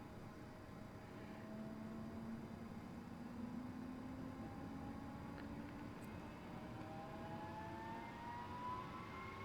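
A Grumman F-14 Tomcat jet engine idles in Microsoft Flight Simulator, a steady, fairly quiet turbine roar with thin whining tones that slowly drift and rise throughout, with no voices.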